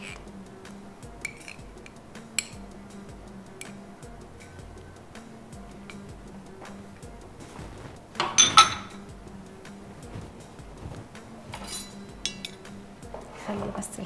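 A spoon or knife clinks against glasses of orange juice as honey is stirred in, with light scattered taps and one louder clatter midway, set against a quiet home kitchen.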